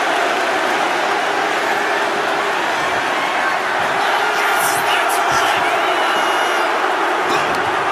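An arena crowd in the WWE 2K25 wrestling video game roars and cheers without pause, a loud, continuous wall of noise with sharper shouts and whistles rising toward the end.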